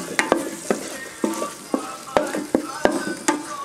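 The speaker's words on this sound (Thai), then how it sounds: "ใส่ห้าตัวเสร็จ เราก็จะผัดนะคะ เอาให้กุ้งสุกค่ะ" Shrimp stir-fried in a pan gives a sequence of sharp scraping stirs, roughly two per second, each trailed by a brief sizzle, close and clear without talking.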